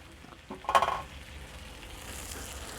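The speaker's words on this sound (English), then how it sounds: "I'm pouring that whole bottle in." An 8-ounce bottle of chili garlic sauce poured into a hot cast iron pan: a short, sharp burst of sizzling that quickly fades to a faint, steady hiss, with no talk.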